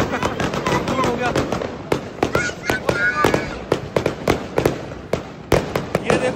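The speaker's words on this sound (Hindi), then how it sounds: "ये देखो भाई पीछे स्काई शॉट कितना सही चल रहा है, बहुत देर से चले जा रहा है" Sky shot fireworks burning during Diwali, a long run of sharp crackling pops and bangs at an irregular rapid rhythm, fairly close and loud, with people talking and shouting underneath.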